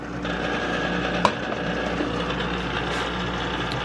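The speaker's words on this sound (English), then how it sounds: "Honestly, that air pump you can hear upstairs in the house." Aquarium air pump for a hang-on-back filtered tank of convict cichlids runs as a steady, noisy mechanical hum and buzz throughout, with one brief click partway in.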